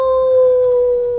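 A sustained wolf-like howl imitated by human voices, loud and close, holding a steady tone for just over a second.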